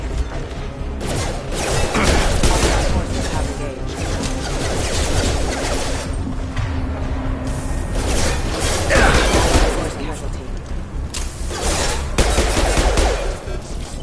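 A dense firefight in the video game Mass Effect 2 fills the scene with loud, near, overlapping bursts of automatic gunfire, crashes and mechanical clatter that barely pause.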